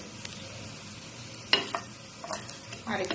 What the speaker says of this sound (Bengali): আর একটু একটু এদিক সেদিক করে ভেজে নেব